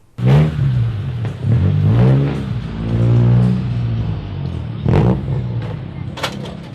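Loud, close revs from a Honda car engine fitted with a large 4-inch exhaust tip, a series of rising and falling blasts with rough, raspy pulsing between them.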